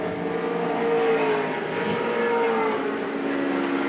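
A 1984 touring race car at the Surfers Paradise round howls steadily down the straight, a sustained engine drone with a slowly falling pitch as it passes at moderate distance.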